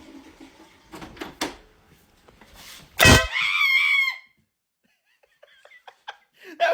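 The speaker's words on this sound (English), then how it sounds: "The air horn pranks." A prank air horn gives one loud, close, sustained blast that cuts through the scene, with laughter and brief chatter before and after.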